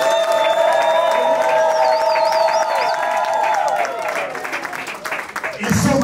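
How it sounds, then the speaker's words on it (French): Wedding guests at a Congolese wedding cheer and applaud the newly married couple, a loud sustained mix of clapping, shouts and high ululating cries, with a voice on a microphone over the crowd. "Est-ce que vous pouvez acclamer?"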